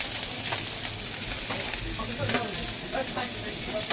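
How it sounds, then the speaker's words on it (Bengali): Slit green chilies and chopped onion fry in a little oil in a kadai for tomato bharta, a soft continuous sizzle with faint crackles and occasional stirring scrapes, fairly quiet throughout. "টমেটো ভর্তা বেশি উপকরণ লাগে না, দিয়ে দিলাম চিরা কাঁচা লঙ্কা আর পেঁয়াজ কুচি"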